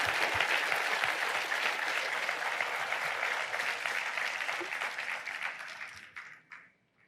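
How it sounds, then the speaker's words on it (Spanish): A church congregation applauds in a long, dense burst of clapping that fills the room, then thins out and fades away at the end. "¿Por qué no damos una ofrenda de palmas a Dios bendito?"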